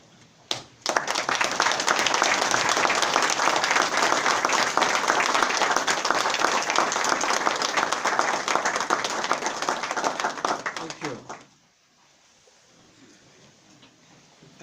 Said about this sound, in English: I invite you to stand up in unison of applause in admiration and appreciation of our comrades